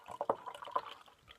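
Beer flowing into a tulip glass, a short liquid gurgle and splash with a couple of brief glugs, close and fairly quiet.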